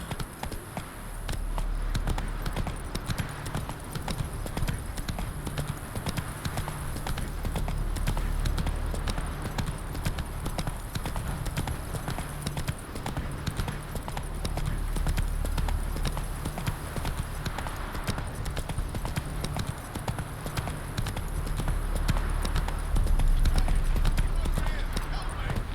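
A horse in The Witcher 3 gallops with rapid, steady hoofbeats, a continuous clip-clop rhythm that holds for the whole stretch and swells slightly near the end, with no talking over it.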